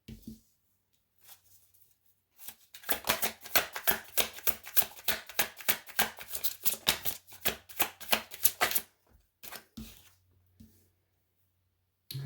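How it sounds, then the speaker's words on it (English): Tarot cards being shuffled by hand, a rapid run of crisp riffling flicks and slaps lasting several seconds, close and clear in an otherwise quiet room. "So you have to put up with me shuffling."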